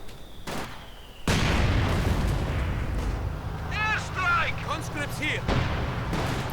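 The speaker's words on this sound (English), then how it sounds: "And an airstrike." Airstrike explosions in a Company of Heroes 2 two-versus-two match: a sudden loud blast, then a sustained rolling rumble of bursts and debris, with brief voices or chirps partway through.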